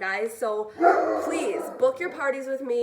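A dog barks and yips several times in quick bursts at close range while someone talks over and between the barks.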